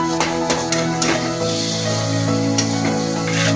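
Steady sizzling of stuffed brinjal masala vangi roasting with tomatoes in a pan, a continuous close frying hiss with occasional soft stirring clicks, no talking.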